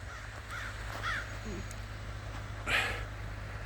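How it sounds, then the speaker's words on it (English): Crows caw a few times at a distance, harsh calls spaced apart over a low steady hum of background noise. "Being serenaded here by the crows."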